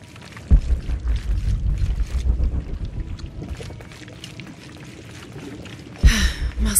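Rushing water pouring through stone channels in Shadow of the Tomb Raider, a steady loud wash with a sudden louder surge near the end.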